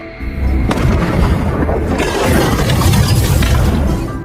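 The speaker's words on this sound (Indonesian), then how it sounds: "tepat saat kapal itu meledak di belakang mereka" A ship explodes with a loud eruption, a sharp crack and shattering debris, followed by a sustained roaring rumble that slowly fades.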